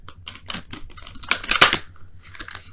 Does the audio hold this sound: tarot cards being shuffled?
yes